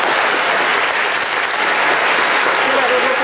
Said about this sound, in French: Mais déjà, on va l'applaudir bien fort.